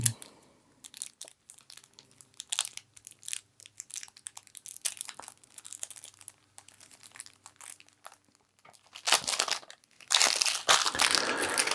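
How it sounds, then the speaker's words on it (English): A pack of Carnegie board game cards being unwrapped and broken open, with repeated close crinkling and crunching of the wrapper. The handling gets louder and denser toward the end, with no talking. "So we've got some cards. Let's see if I can break this open."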